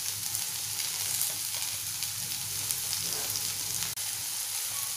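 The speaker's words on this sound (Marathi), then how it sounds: "भेंडी टाकून घेऊया, मिक्स करूया।" Sliced okra (lady finger) sizzles and fries steadily in a hot pan for a Maharashtrian bhendi bhaji, a continuous hiss with faint stirring scrapes, loud and close with no talk.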